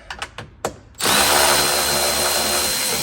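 A power drill spins a bolt out of a panel on a Yamaha RMAX2 side-by-side, a few short bursts of tool noise followed by a loud, steady whir running close up.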